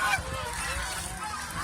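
A goose gives a brief honking call close by, a short nasal burst against steady background noise.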